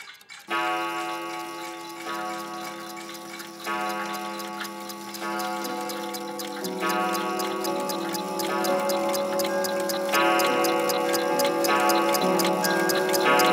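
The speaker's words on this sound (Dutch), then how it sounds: "hoort u het tikken van de klok." A steady, regular clock tick runs throughout beneath soft, sustained music, each tick crisp and evenly spaced.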